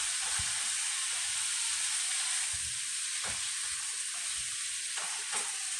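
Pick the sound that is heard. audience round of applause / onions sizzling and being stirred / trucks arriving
onions sizzling and being stirred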